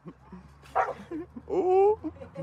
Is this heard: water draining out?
no